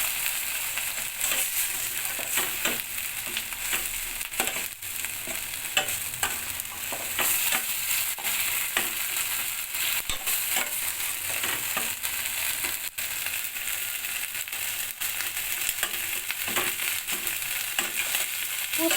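Poppy seed and cashew paste being stirred into spices frying in a pan for a Bengali rohu-catla fish curry, a steady close sizzle with repeated scraping stirs throughout.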